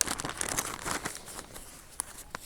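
Quiet, close crinkling of a thin dissolvable PVA fishing bag being handled, with soft irregular rustles and a few sharper crackles, no voices.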